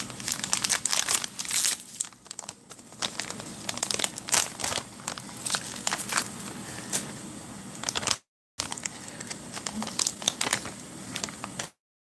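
Crinkling and crackling plastic up close as a resealable bag of peach drink mix is squeezed and handled, steady rustling with a brief dropout near the end; no voices.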